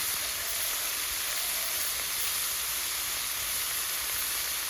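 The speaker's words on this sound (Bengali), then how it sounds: "একসঙ্গে 5 মিনিট আদা বাটা একটু দিয়ে ভেজে নেব।" Ginger paste fries in a pan together with fried eggplant and leafy greens, giving off a steady, even sizzling hiss that stays constant and unbroken throughout.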